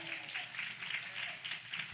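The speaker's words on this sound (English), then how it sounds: "Can we clap it up for her one more time?" An audience at a community outreach session claps for a speaker, a short burst of moderately loud, steady applause with some voices mixed in.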